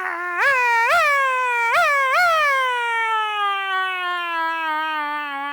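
A voice mimics a siren, with rising whoops that swell repeatedly and then a long wail slowly falling in pitch, loud and close.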